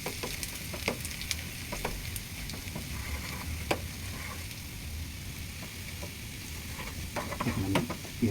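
Cumin seeds, garlic, ginger and ground spices fry in hot oil for beef haleem with oats, making a steady close sizzle with scrapes and taps from the stirring spoon and no voices.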